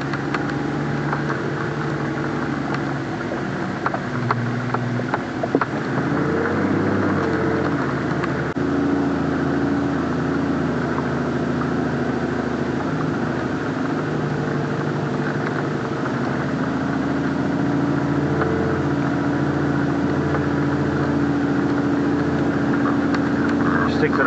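A 4WD vehicle crawls uphill in low second gear on a steep, shaley off-road bluff track, its engine a steady, loud, low drone throughout.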